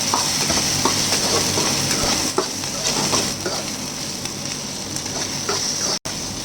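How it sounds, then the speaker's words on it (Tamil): Onions and tomato sauté in a hot pan for a Tamil yam cutlet recipe, with a loud, continuous sizzle and frying hiss broken by close stirring scrapes and ending in a brief cut. "இப்போ தக்காளி கூட சேர்த்துக்கோங்க நல்லா வணங்கிட்டோம்"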